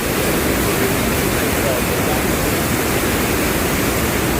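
A waterfall roars as a dense, loud, unbroken wash of rushing water filling the whole clip, with no pauses or distinct events.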